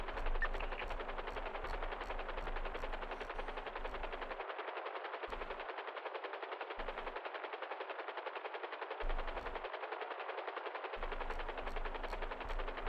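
Police helicopter hovering overhead in GTA NoPixel roleplay, a steady broadband rotor drone, with low thumping pulses that cut in and out, continuing throughout.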